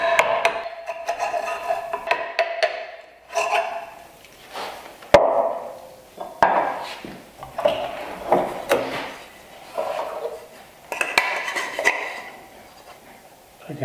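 Hand chiseling a mitered wooden bridle joint on a board, the chisel struck in repeated sharp knocks and taps, fairly close, with short pauses between bursts of work.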